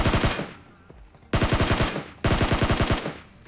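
Rapid automatic gunfire from a video game battle, three loud sustained bursts of evenly spaced shots, each fading into a brief echoing tail before the next burst begins, close and dominant with no voices over it.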